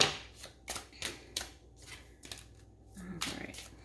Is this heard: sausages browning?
no